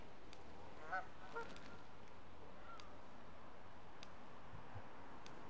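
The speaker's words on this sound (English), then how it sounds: "Hey, what geese are coming." Geese honk faintly in the distance over a coastal bay near Scarborough, a few scattered calls near the start set against steady wind and ambient rumble.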